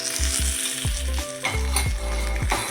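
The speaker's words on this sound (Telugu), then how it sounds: "కరివేపాకు వేసుకోవాలి. కొంచెం ఇంగువ, ఈ తాలింపుని వంకాయ కూరలో వేసుకొని" Curry leaves and asafoetida tempering poured into brinjal curry sizzle loudly, with repeated bursts of hissing and a few stirring scrapes and pan knocks, close and continuous with no talk.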